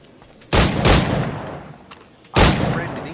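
Two heavy firearm shots boom out in Assassin's Creed IV Black Flag, each a sharp blast with a long rumbling tail, the second arriving about two seconds after the first, loud and close with no talk.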